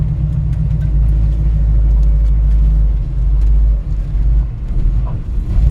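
A 1966 Chevrolet C10 pickup truck drives along with a steady, loud low engine rumble and road drone that holds throughout, dipping briefly near the end.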